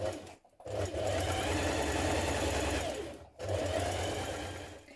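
A sewing machine stitches the lining around a dress neckline about seven millimetres in, giving a close, steady mechanical whir with two brief stops, no voices.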